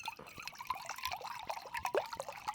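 Water is poured at night inside a unique Midwest Airbnb. A faint, close trickle with uneven drips and splashes runs continuously with no talk.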